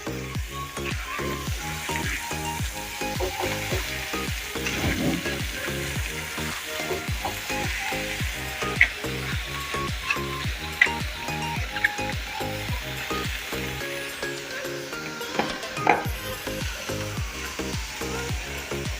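Washed cabbage stir-fried in a pan with salt and spices: a steady close sizzle with a rapid, regular scraping rhythm of a spoon stirring against the pan throughout.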